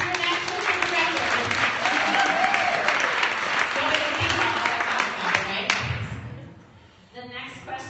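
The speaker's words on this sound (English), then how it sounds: "Carol Toothman, you guys give a big round of applause because this is your next Crystal Director." Audience applause at a business leadership event, loud dense clapping from a crowd that carries on steadily before thinning out toward the end, with a few scattered claps after the drop.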